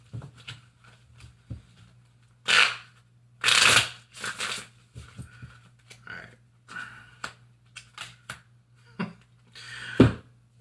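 Tarot cards being shuffled by hand, bursts of riffling and fluttering card edges in irregular clusters, close and crisp, with soft taps between and a steady low hum behind.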